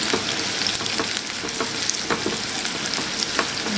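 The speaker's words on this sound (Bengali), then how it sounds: "এবার আমি পেঁয়াজটা ভেজে নেব।" Onions frying in oil in a pan, a steady close crackling sizzle with small pops and occasional stirring scrapes, continuous and without voices.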